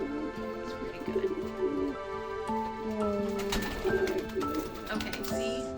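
A rescued pigeon coos in a series of soft, close, repeated calls with a warm tonal pulse, continuing across the stretch with slight background noise.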